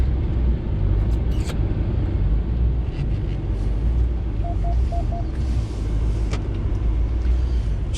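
A 4x4 Jeep engine rumbles steadily at close range while the vehicle turns around on a Colorado mountain trail, with a constant low drone and a few brief clicks and knocks.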